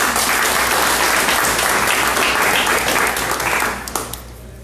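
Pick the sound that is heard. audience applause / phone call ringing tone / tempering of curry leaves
audience applause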